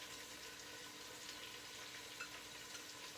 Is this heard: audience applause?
no